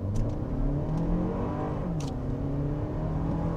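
A Lexus TX500h hybrid SUV accelerates hard from a standstill, a steady, loud engine drone with rising harmonics filling the cabin, heard from inside with no talking.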